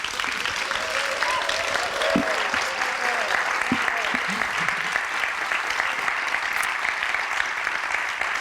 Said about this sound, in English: you can definitely applaud for Paul